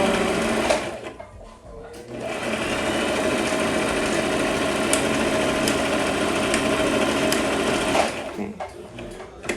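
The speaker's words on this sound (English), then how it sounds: "we're gonna keep the cap flat the entire time as we sew." A sewing machine stitches a flat wig cap in a steady, continuous whir that runs almost the whole time, with brief pauses near the start and end.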